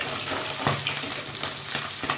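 Fish frying in a pan, a steady close sizzle and crackle with a few soft stirring knocks and no talk.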